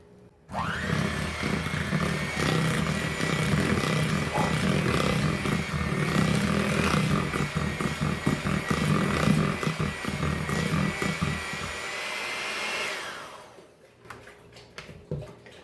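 Electric mixer creaming cookie dough with vanilla for peanut butterscotch cookies, a steady loud motor whir that runs for about twelve seconds and then winds down, with no voices.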